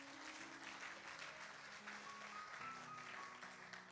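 A church congregation claps and cheers in praise during a French-language sermon, a continuous wash of applause heard throughout with faint sustained tones from instruments or voices underneath.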